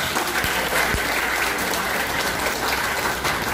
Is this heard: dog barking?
no